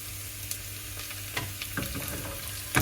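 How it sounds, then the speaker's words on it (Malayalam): Onion and curry leaves frying in a pan for a mango fish curry, a soft, steady sizzle with a few light clinks and stirring sounds, close and quiet with no talking. "ഉള്ളി ഒരു ചെറിയൊരു ബ്രൗൺ കളറാകുമ്പോൾ നമ്മുടെ വേപ്പിലയും കൂടുന്നത്."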